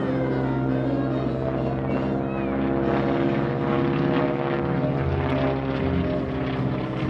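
A World War II training propeller airplane rolls all the way around at the 2019 Culpeper Air Fest. Its engine is a loud, steady droning roar that holds throughout and swells slightly through the middle.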